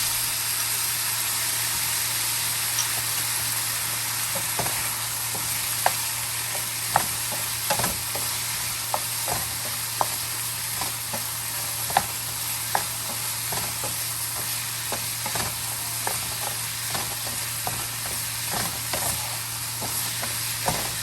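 Vegetables and garlic stir-frying fast over high heat in a pan, with a steady sizzle under the repeated clack and scrape of a utensil stirring. No voices, only the constant frying hiss and the sharp stirring hits.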